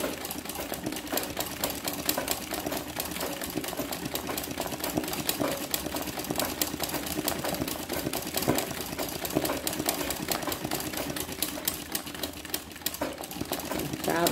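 An embroidery sewing machine stitches continuously, its fast, even mechanical chatter holding steady throughout, close and fairly loud.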